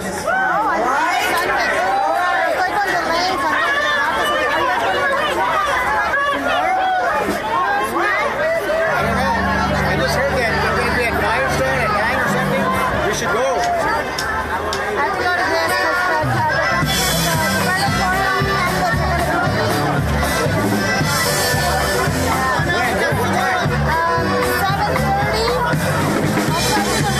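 A dense crowd of convention marchers chatters in the street, a constant babble of many overlapping voices close by with a lower rumble rising partway through.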